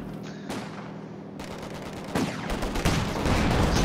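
Artillery gun firing in Company of Heroes 2, a series of sharp booming blasts with echoing tails and battlefield rumble, the shots growing heavier and closer toward the end, with no talk.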